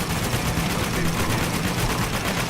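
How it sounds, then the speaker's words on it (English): Heavy gunfire from Spec Ops: The Line, a dense, continuous roar of rapid automatic shots that stays loud and unbroken throughout. "Taking some heavy fire here!"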